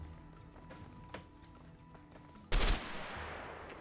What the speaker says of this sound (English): Or any of the other gunfire?